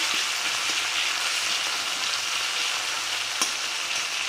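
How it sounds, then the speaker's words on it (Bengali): Chopped tomato and salt frying in a pan for a spicy Bengali fish curry, giving a steady, fairly loud broadband sizzle with a few faint clicks and no voices. "এবারে দেবো টমেটো কুচি, একটা মাঝারি সাইজের টমেটো কুচি, আর পরিমাণ মতো লবণ।"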